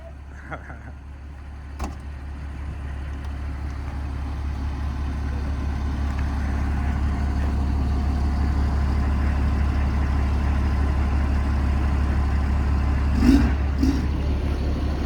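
A car's engine drones steadily and low while driving after losing all its coolant, building slightly in level over time with a few faint clicks and knocks inside the cabin.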